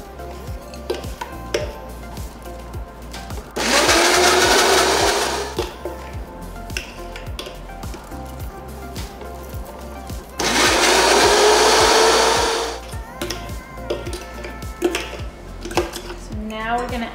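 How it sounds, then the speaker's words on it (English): A kitchen blender pulses cauliflower into fine rice in two loud whirring bursts of about two seconds each, with quieter clinks and handling noises between them and no speech. "I'm gonna pulse it in my blender until it's really fine."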